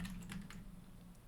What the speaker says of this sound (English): And then I'm typing control R to go up to the next thing.